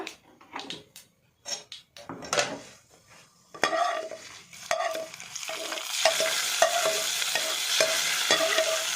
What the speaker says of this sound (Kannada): ಇತ್ತೆ ನಮ್ಮ ಮನೆಗೆ ಒಗ್ಗರಣೆ ಪಾಡ್ಗ